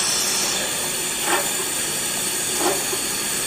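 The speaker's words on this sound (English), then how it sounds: "using a lighter to light up the gas" Gas burner of an old second-hand espresso stove lit with a lighter, giving a steady soft hiss with two brief louder puffs or flickers, no talking.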